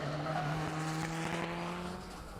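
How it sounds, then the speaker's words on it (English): Mitsubishi Lancer rally car at Snetterton with tyres squealing and wastegate chattering, a loud, close, sustained engine drone with steady squealing tones that eases slightly near the end. "William and Stuart Moore in their Mitsubishi Lancer, tyres squealing and wastegate chattering away around Snetterton"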